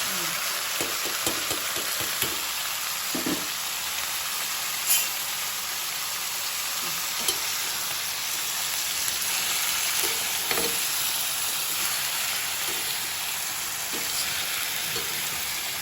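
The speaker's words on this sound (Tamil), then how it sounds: "100 கிராம் எண்ணெயில் கொஞ்சம் எண்ணெய் ஊற்றி முதல்ல இந்த தக்காளியை நம்ம வணக்கிக்கிறோம்." Tomatoes for a tomato pickle sauté in oil in a pan, giving a continuous close sizzle with occasional scraping stirs and soft clatters over the long stretch.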